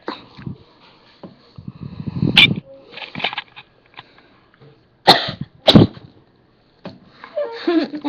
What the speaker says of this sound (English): I'm gonna be coughing flour.